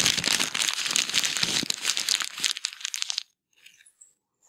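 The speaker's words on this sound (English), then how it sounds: "it's gonna be crumpling paper." Paper is crumpled up close, with dense crackling and crinkling for about three seconds that then stops abruptly, leaving near silence with a few faint rustles.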